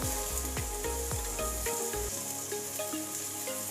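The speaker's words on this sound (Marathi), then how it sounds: "आता सॉफ्ट झाल्यानंतर आपण जे काही गाजर कट करून ठेवलेलं आहे ते घालूया. शिमला मिर्च घालूया" Chopped carrot and capsicum sizzling steadily in a pan of frying rava appe batter mix, a loud continuous hiss with a few stirring clatters near the start, no voices.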